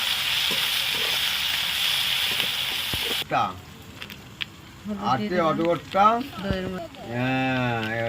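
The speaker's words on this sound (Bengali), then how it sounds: "পেঁয়াজটা ভালো করে ভাজা করে নেব।" Onions fry in hot oil with bay leaves, cardamom and cinnamon, giving a steady hiss that dominates the first few seconds. A voice then talks over quieter cooking sounds.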